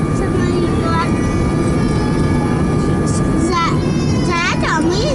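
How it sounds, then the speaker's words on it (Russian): A passenger airliner taxis after landing with its wing flaps retracting, a steady loud engine roar filling the cabin while a child and an adult talk over it. "Крылышки опять сворачивают."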